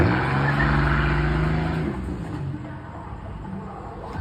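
A Pontiac car with its catalytic converters removed idles and revs nearby, a loud low engine rumble that swells early and then settles into a steady throaty drone.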